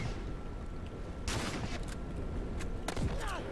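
Video game gunfire, a quick volley of shots cracking in a short burst, then a few more scattered pops, heard alongside faint game background noise.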